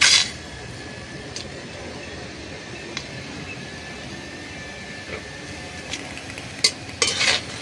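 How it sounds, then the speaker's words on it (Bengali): Tomatoes, dried red chillies and garlic being dry-roasted and stirred in an oil-free kadai for chutney: a steady soft hiss broken by sparse scrapes and clicks, with a louder cluster of knocks near the end. "এখানে আমি চাটনিটা বানানোর জন্য এই টমেটো, শুকনো লঙ্কা আর রসুনটা এই শুকনো কড়ার মধ্যে হালকা হালকা পুরাভাবে ভেজে নেব।"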